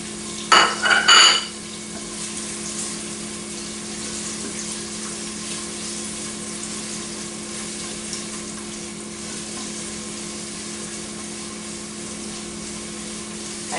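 Garlic and diced bacon frying in a GM G de Luxe pot for braised cabbage, a brief clatter of stirring at the start and then a low, steady sizzle with a faint hum, close and without talk.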